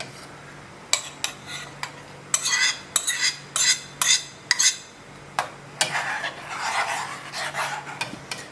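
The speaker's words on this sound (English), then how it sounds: "From here we're going to start stirring it, and this is going to start to thicken as it boils." A spoon stirring red berry compote thickening in a pot, a series of close rasping scrapes against the pot in an irregular rhythm, then a longer, softer bubbling rub toward the end, without talk.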